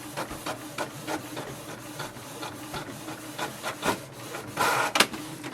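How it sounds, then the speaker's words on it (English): A Canon TS5020 inkjet printer works through a page, its print head sliding back and forth with rhythmic whirring passes, ending in a louder rasping feed. "So it will send a command for the printer and it will start the printing instantly."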